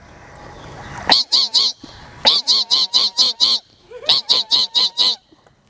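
A person imitates a parrot's call with sharp, rhythmic squawks in three quick loud runs of about four to six calls each, close and clear with short pauses between runs.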